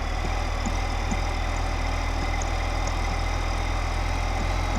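Tractor engine idling in Farming Simulator 2015, a steady low diesel rumble with a constant throbbing pulse that holds evenly throughout, loud and close with no talking.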